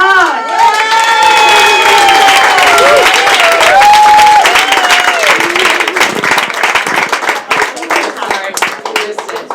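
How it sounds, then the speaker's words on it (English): A comedy club crowd breaks into loud applause and cheering, with whoops and shouts over steady clapping that gradually thins toward the end. "Make a lot of noise for Karen Stone"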